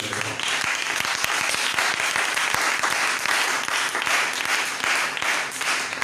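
A church congregation breaks into applause, dense continuous clapping from many hands with a few louder claps standing out, sustained throughout.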